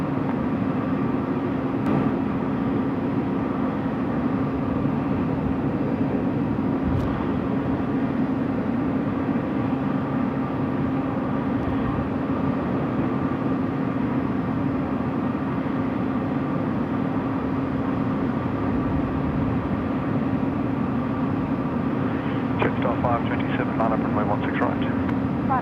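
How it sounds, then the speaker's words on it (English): A Qantas airliner lands on runway 16 right at Sydney Airport at night, its engines a steady, droning roar with a constant whine that holds level throughout, heard from a distance with faint background noise. "Qantas landing."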